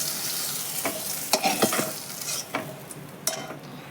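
Bitter gourd pieces fry in oil in a pan, a continuous hiss of sizzling broken by occasional scraping stirs and clinks of a utensil, close and without speech.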